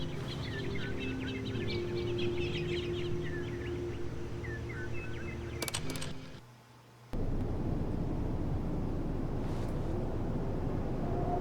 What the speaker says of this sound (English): It's those birds.